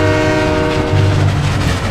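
A train horn blows a loud sustained chord close by, layered over the low rumbling roll of the passing train.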